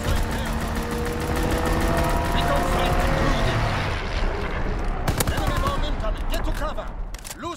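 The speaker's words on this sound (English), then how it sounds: "Strafing run inbound." Strafing-run gunfire in the Call of Duty WWII Gibraltar map, dense rapid automatic bursts and shots rolling continuously through a loud battlefield mix, with a sharp louder crack near the end over ongoing combat noise.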